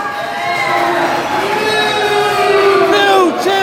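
A wrestling crowd roars and screams for a newly crowned MSWA champion at a live event, a loud, dense wall of cheering and high shouts sustained throughout with sustained, wavering voices rising near the end.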